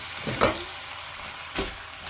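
Soft sizzling of soaked seaweed sautéing in a pot for Korean seaweed soup, with two brief bursts of stirring or clattering, the frying hiss continuing quietly in between.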